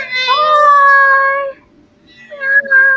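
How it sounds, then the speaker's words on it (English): A cat meows twice up close, a long drawn-out meow followed after a short pause by a shorter one. "her cat is meowing"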